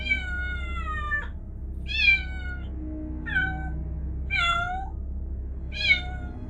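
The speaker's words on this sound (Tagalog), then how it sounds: "At biglang lumabas ang isang itim na pusa." A black cat meows five times in a row, clear and close, each cry spaced about a second apart over a low steady background hum.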